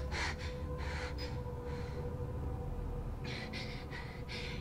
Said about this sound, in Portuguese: É uma mulher, respiração de mulher.